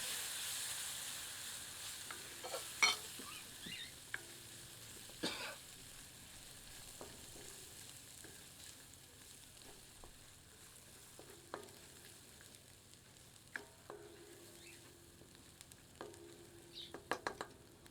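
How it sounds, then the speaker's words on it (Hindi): Ginger-garlic paste sizzles quietly in a pan while a spoon scrapes and stirs in occasional bursts, the frying hiss soft and steady throughout. "मिलाकर थोड़ा भूनते हैं।"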